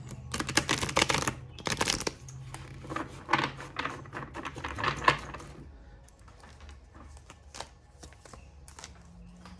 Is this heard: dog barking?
no